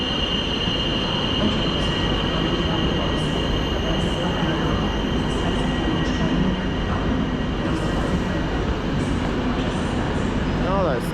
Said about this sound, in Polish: Wjeżdża pociąg Galicja z Berlina do Przemyśla.